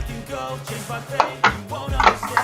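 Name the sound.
cooking pots taken out of a kitchen cabinet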